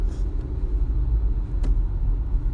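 Steady low road rumble inside a moving car in traffic, continuous engine and tire drone throughout with a brief faint knock partway.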